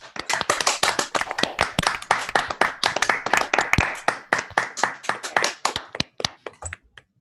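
Sharp, close hand claps from a small group, rapid and irregular, building and holding steady before thinning out to a few last scattered claps near the end; no talking.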